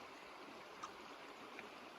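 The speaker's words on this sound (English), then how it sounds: "pretty little river running through here" A small river runs steadily through a canyon in Gila National Forest, New Mexico. The water makes a soft, continuous rushing murmur with faint splashes and no voices.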